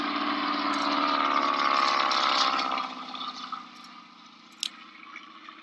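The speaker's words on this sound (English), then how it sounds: "This was a clip of a T6 doing a low, slow flyby." A T-6 warbird aircraft making a low, slow flyby, its radial engine a loud droning buzz that holds strong and then fades as it passes away, ending with a brief sharp click.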